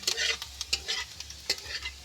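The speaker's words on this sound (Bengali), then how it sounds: "আদা রসুনটা আমি ভালো করে ভেজে নেব" Ginger and garlic frying in a pan for a fish curry, with crisp sizzling under repeated stirring scrapes and clinks in a steady close rhythm.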